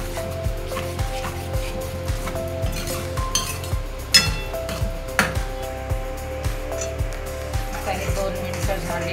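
Pav bhaji being stirred in a pan, with a steady rhythm of spoon scrapes and clinks against the metal, close up, over a low background hum and music.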